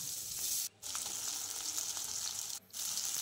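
Sliced onion, ginger-garlic paste, bay leaf, dried red chilli and whole cardamom sizzle loudly in hot oil in a kadai, a steady close frying hiss broken by two brief pauses.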